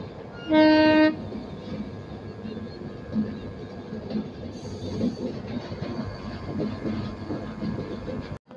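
Shatabdi Express train running along a curve, opening with a short loud horn blast and then a steady rolling rumble of wheels and carriages heard from on board, fairly loud throughout with no voices.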